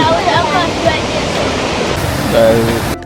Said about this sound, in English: The river coming down with a bit more force, as you can see.